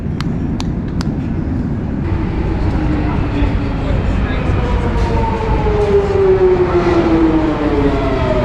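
A London Underground train rumbles loudly in motion, its rising and falling tonal whine sweeping upward over heavy low noise, with a few sharp clicks near the start.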